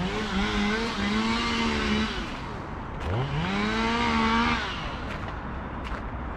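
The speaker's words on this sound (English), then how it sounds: "someone is cutting some woods here" A chainsaw cuts wood near Monteliusvägen in Stockholm, Sweden: its engine revs up and down in two rising and falling surges, a buzzing, whining drone heard from a moderate distance and fairly faint overall.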